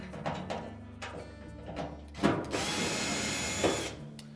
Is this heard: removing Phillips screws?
yes